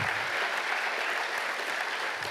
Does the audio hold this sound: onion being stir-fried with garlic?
no